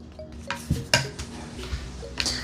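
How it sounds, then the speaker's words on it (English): Metal tongs scrape and clack against a pan while rubbing salt and paprika into chicken, giving a few sharp, close clinks among softer scraping sounds. "we're just gonna kind of rub that in with our tongs"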